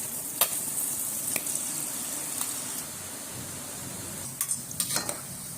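Mullu murukku dough made with rice and roasted gram frying in hot oil gives a soft, steady sizzle, with a few light utensil clinks near the end.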